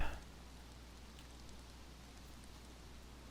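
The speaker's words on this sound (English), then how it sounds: "I need it to stop raining is what I need" Rain in the video game DayZ, a faint, steady hiss of falling drops with a low constant hum beneath, unbroken and without talk.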